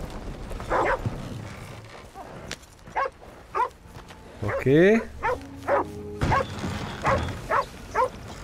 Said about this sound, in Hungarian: Hogy ugatnak a kutyák